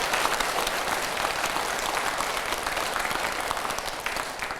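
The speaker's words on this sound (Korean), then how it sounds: "총무원장 스님께도 큰 박수 부탁드립니다." A crowd applauds steadily for the head monk of a Buddhist order after a lecture, dense clapping continuing throughout at moderate volume with no voices over it.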